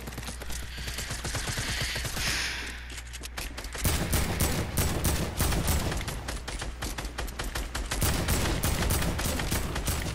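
Rapid bursts of video game gunfire crackle through a battle-royale match, dense and loud, with a short lull near the three-second mark before steady automatic fire resumes for the rest of the stretch.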